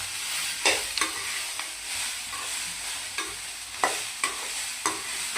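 Curry leaves sautéing in a pan for black chickpea sprouts sundal, a soft continuous sizzle broken by several distinct spatula scrapes and stirring knocks, close up, no talk.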